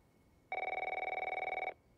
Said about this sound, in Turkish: Telefon çalıyor, bir dakika.